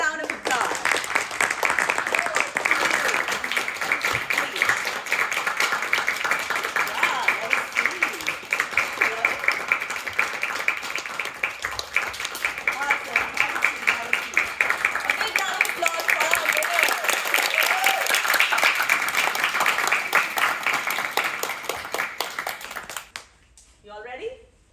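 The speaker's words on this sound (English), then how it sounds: "let's welcome the winners of Global Musical Icon with a round of applause." Sustained audience applause welcoming the winners at a talk show for a music talent contest, dense and steady for about twenty seconds before tapering off abruptly into near silence.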